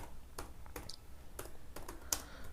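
Faint, sparse keystrokes on a computer keyboard typing a short phrase, a handful of soft separate clicks at an uneven pace with no talking.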